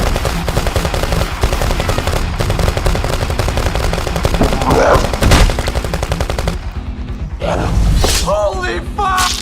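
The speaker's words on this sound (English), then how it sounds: "Shoot it!" Sustained loud automatic gunfire rattles nonstop as guns shoot at zombies, dense and close, with shouting voices breaking through near the end.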